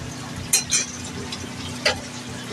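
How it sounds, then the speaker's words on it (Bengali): Fish frying in a pan gives a steady soft sizzle, broken by a few brief louder spatters and clinks, close by with no talking. "মাছ ভাজা হচ্ছে"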